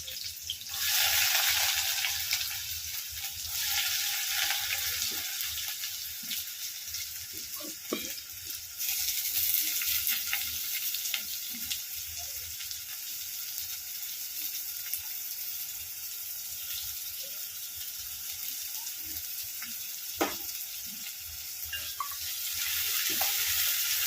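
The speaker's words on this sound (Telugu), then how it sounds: "ఇప్పుడైతే ఆయిల్ హీట్ అయ్యింది ఉల్లిపాయలు అయితే వేస్తున్నాను" Chopped onions frying in hot oil in a pan, a loud, continuous close-up sizzle with occasional stirring scrapes and pops throughout.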